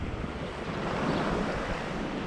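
Sea waves breaking against a rocky headland shore in February, a steady, loud rushing surf with wind buffeting the microphone, continuous throughout with no voices.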